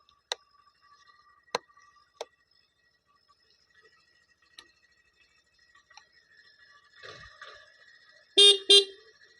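A used vehicle's horn sounds two loud, short blasts in quick succession near the end, after a quiet stretch of faint ticking and clicks.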